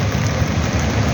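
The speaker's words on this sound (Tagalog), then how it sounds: "Umulan kasi." Steady rain falls on an outdoor walk home beneath a small umbrella, a dense, even hiss with a low rumble underneath, loud and unbroken with no voices.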